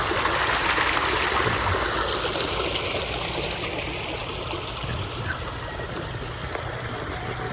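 A river in San Jose del Monte, Bulacan, flows in a steady, broadband rush of water, close and fairly loud, with no talk over it.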